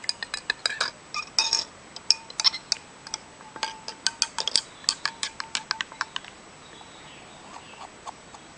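Detergent wash water being stirred in a basin, a run of quick clinking, splashing ticks in an uneven patter that thins out and fades toward the end, with no voices.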